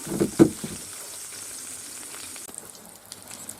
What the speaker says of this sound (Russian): Мясо жарится, румяные становятся.